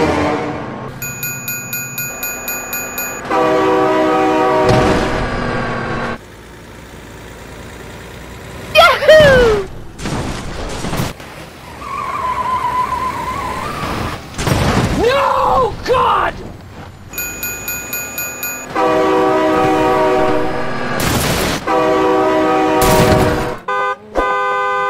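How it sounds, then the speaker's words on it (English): A passing train in the BeamNG.drive video game sounds long, loud horn blasts twice, with clanging, crunching impacts and vehicle noise in between. "Oh my god, train!"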